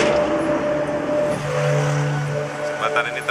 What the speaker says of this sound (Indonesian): Jembatan ini termasuk jembatan yang sibuk dengan hilir mudik kendaraan bermotor.